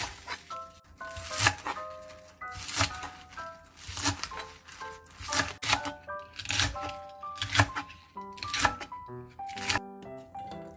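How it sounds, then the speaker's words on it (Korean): A knife chops scallions, green onions and seaweed in a steady rhythm, crisp strikes against a board repeating every half second or so, with soft tonal music underneath. "이제 야채를 썰어보자. 청각, 대파, 쪽파를 썰어줄게."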